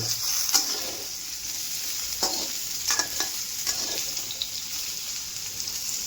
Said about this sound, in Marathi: आता बटाटे हे करून घेते तेलामध्ये फ्राय चालू बटाटे